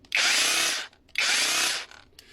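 A Parkside X20V cordless jigsaw starts up twice, each burst a harsh high whine lasting under a second, close and fairly loud, with a short pause between the runs and a faint rattle afterward.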